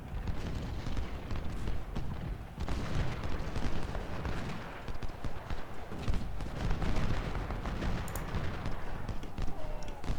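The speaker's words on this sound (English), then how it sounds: "We'll wait for the return fire here and then fall back." Musket and artillery fire rattle back and forth across a Civil War battlefield at Shiloh in Ultimate General Civil War, a steady, fairly quiet crackle of volleys and distant booms throughout.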